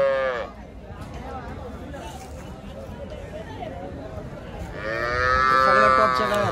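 Cattle moo loudly at the start and again near the end at the Loni weekly cow market, over a steady murmur of crowd noise and voices.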